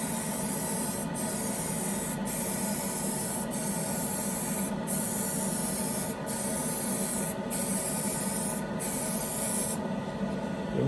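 Aerosol spray paint hisses steadily onto a 1968 Dodge Coronet model car body from an MPC kit, a continuous close spray with brief periodic gaps between passes and no talk.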